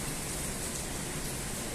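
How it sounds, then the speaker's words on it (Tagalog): Dense, steady hiss of heavy rain in strong wind with a broad rushing roar, constant and enveloping throughout, no voices. "malakas yung hangin, saka malakas yung ulan"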